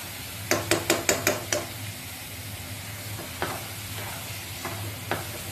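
Carrot halwa roasts in a pan under a soft sizzle, opened by a quick run of sharp metallic taps from a spoon against the pan, then slower scattered scrapes as it is stirred.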